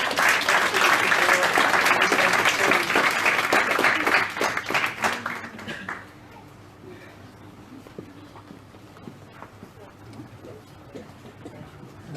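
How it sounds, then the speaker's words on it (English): Audience clapping at an awards night, loud and dense for about five seconds, then fading out into a quiet room with faint scattered noises. "Hey, let's give these guys a big clap"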